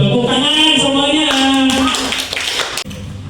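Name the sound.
group applause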